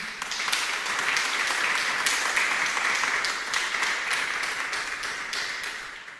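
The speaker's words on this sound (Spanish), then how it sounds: "Denle un aplauso al Señor." A church congregation gives steady, sustained applause during a sermon, a thick, even wash of many clapping hands filling the room at constant loudness for several seconds.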